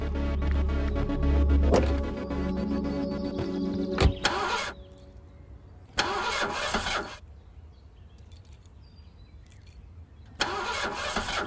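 A sabotaged car engine cranks repeatedly without catching, in several separate bursts of starter-motor whirring with quiet pauses between them, after a short stretch of loud running noise at the start.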